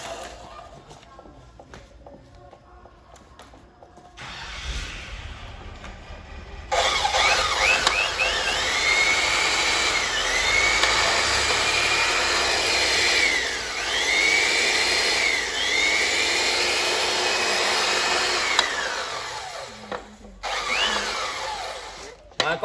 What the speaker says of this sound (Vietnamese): Con này là con cưa xích hàng Shindawa. Nó là 900W.